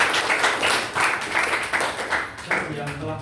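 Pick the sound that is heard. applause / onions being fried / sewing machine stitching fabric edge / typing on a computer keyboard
applause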